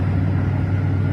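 Slim Jim, a tow vehicle, driving on a country road, heard from inside as a steady, loud low engine and road rumble with no breaks.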